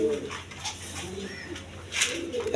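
A pair of red Lahori pigeons, a male and a female, coo in low, repeated calls close by, with a sharper bird sound briefly cutting in.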